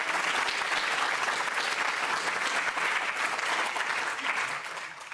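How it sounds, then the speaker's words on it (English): An audience at a neuroscience lecture applauds the speakers with a dense, sustained burst of clapping that stays loud throughout and eases slightly at the end. "so you can give them a round of applause for them."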